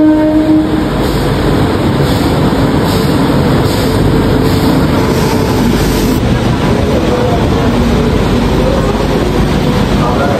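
An express train passes close by in a long, loud continuous rumble with steady wheel clatter, a sustained horn blast sounding over the first few seconds.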